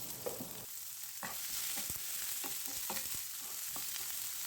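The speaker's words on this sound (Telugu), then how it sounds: "అవి కాస్త వేగినాక ముందుగా కట్ చేసి పెట్టుకున్న ఉల్లిపాయ ముక్కలను వేసుకోవాలి." Chopped onion pieces frying in hot oil with cumin and mustard seeds, a steady loud sizzle with repeated spatula scrapes and stirring, close, no voices.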